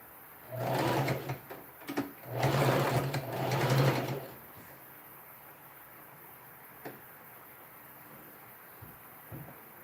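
Three short bursts of a sewing machine stitching a dress shoulder seam, a close whirring hum that stops and starts, followed by quiet handling noises.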